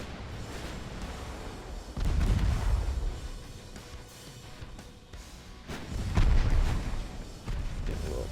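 Naval gunfire from warships in the game Ultimate Admirals: Dreadnoughts, with two heavy low booming salvos about four seconds apart, each rolling on over a steady background rumble.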